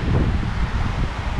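Steady wind buffets the microphone with a low rumbling roar, continuous and close, on a beach on Fraser Island's (K'gari) west coast, with no voices over it.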